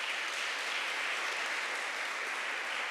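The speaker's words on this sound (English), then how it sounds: "Can we have another round of applause for Mataji?" An audience claps after a lecture at a university, a soft, even and distant patter of applause that holds steady without voices.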